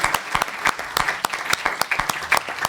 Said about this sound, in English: please, that deserves a round of applause.